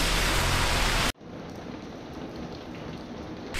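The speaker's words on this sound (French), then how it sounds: "il pleut beaucoup de trop" Heavy rain falling in Kawagoe, Japan, a loud, dense hiss that cuts off abruptly and gives way to a softer, steady patter of rain on surfaces.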